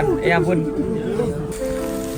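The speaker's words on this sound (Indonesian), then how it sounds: "Sini dan cuacanya hujan." Rain falls during cold weather in Taiwan, a steady hiss of drops on a surface under a man's short spoken exclamation and breathy voice.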